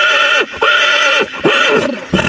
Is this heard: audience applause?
no